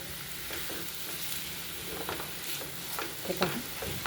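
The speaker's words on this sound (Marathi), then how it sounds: "तर आपल्याला हे जे खोबरं आहे हे चांगलं परतून घ्यायचं आहे" Freshly grated coconut roasts in a pan for a jaggery modak filling, giving a quiet, even hiss broken by soft scraping stirs. The stirs grow a little busier near the end.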